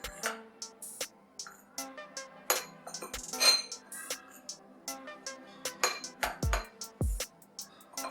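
A spoon mixes ingredients for homemade chocolate syrup, including sifted flour, in a bowl, making irregular close clinks, taps and scrapes against the bowl with short quiet gaps between strokes.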